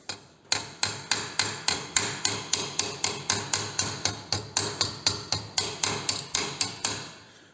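A vintage brass headlight is hammered back into shape with about twenty sharp metallic blows in a steady, even rhythm, loud and close with ringing decay.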